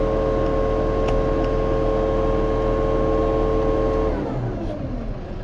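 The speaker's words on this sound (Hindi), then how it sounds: "जो कि आपका ट्रैक्टर आइडल आरपीएम पे स्टार्ट है" New Holland Workmaster 105 4x4 tractor, a 106 HP model, idling at low rpm: a steady, loud diesel drone with constant tonal hum, easing slightly near the end, no talk.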